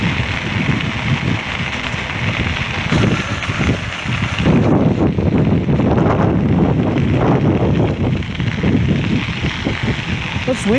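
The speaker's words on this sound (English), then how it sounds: "It's windy today" Steady wind buffets the microphone on an e-bike ride in Sudbury, a continuous low roar, loud and close throughout, with brief rumbling gusts.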